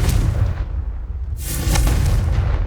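The Confringo blasting spell in the video game Hogwarts Legacy goes off as a heavy, booming burst with a deep rumble, followed by a second crackling blast.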